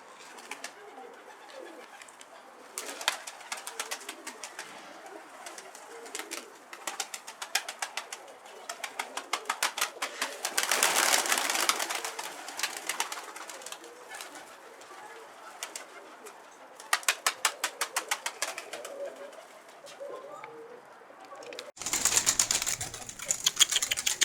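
Pigeons coo on and off nearby and break into rapid bursts of wing flapping several times, with faint voices now and then.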